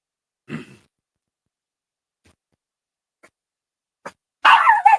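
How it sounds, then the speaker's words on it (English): A small fuzzy female dog barks indoors in a quiet workshop: one short bark, a few faint clicks, then a louder burst of rapid barking at the end. "My little fuzzy dog is the loudest thing we've got."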